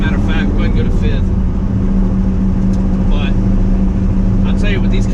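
A Chevrolet Camaro SS with a KraftWerks setup and J-pipe caps fitted drones loudly and steadily while driving, heard from inside the car as people talk over it.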